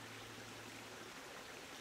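A small river stream flows steadily with a faint, even rushing hiss, far off and uninterrupted.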